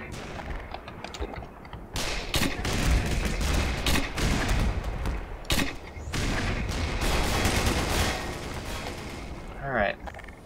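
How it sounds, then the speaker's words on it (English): Repeated shotgun blasts in the first-person shooter Black Mesa, a burst of loud, sharp booms clustered through the middle, each with a broadband crack and short decay, over a steady game-ambience bed. "shotgun to the face!"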